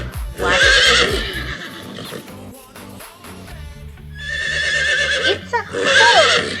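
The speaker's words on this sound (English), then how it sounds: "It's a horse." A horse neighs loudly and close, a long quavering whinny that rises and falls, followed by a second shorter whinny near the end, heard alone without talk.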